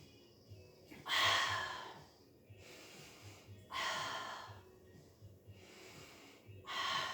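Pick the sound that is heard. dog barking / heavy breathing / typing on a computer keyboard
heavy breathing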